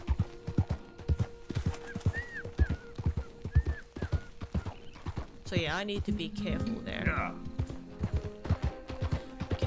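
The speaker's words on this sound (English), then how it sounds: "I can hear the horses." Horse hooves clip-clop steadily in Red Dead Redemption 2, with a horse whinnying partway through, while someone talks over the rhythmic footfalls.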